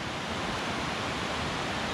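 Lower Falls at Stone Mountain State Park pours with a dense, steady roar of falling water, loud and even throughout with no other sounds.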